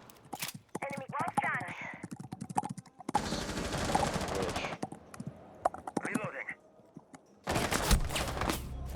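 In a Rainbow Six Siege esports match, rapid bursts of automatic gunfire in quick rattling volleys alternate with short pauses, mixed with clicking and a few voices in the background.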